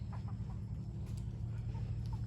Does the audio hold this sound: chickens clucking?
yes